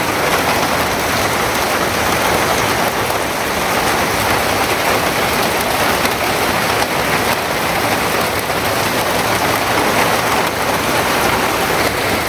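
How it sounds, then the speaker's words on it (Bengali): Torrential downpour drumming on a tin roof in a village, a dense, steady, loud roar of rain that holds unbroken throughout with no voices. "যারে কয় মুসলধারে বৃষ্টি"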